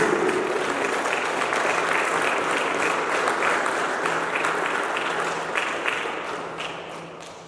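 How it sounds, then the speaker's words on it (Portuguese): A church congregation applauds steadily and loudly for several seconds, the clapping thinning and fading toward the end. "Uma salva de palmas para Jesus."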